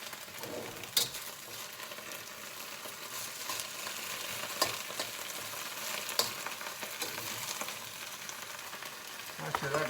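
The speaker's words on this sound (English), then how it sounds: "Oh, it's cooking up just like spinach." Dandelion greens and garlic sizzle in a pan with a continuous crackling hiss, and occasional stirring clicks and scrapes rise above it.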